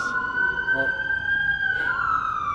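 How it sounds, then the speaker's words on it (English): An ambulance siren wails with a long rising and falling tone, loud and fairly close, over street noise outside a baseball game. "Look at the ambulance."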